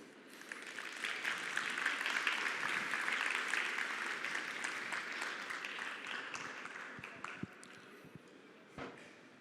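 An audience applauds after a conference talk, with steady, dense clapping that builds to a full sustained round and then thins toward the end, with a few scattered final claps.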